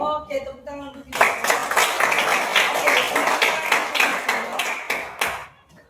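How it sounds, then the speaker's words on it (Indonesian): A class of schoolchildren in a physical education lesson claps hands together in a dense, lively burst of many overlapping claps lasting several seconds, preceded by brief singing and fading out at the end. "Oke, tepuk tangan untuk kita."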